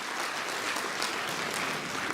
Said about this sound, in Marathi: मॅडमचं स्वागत जोरदार टाळ्यांमध्ये झालं पाहिजे